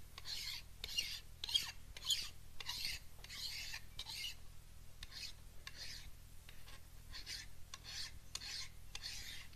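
Steady back-and-forth rasping strokes of a hand tool cutting back sharp sanded edges to a radius in a woodworking workshop, close and quiet, repeating in an even rhythm over a low hum.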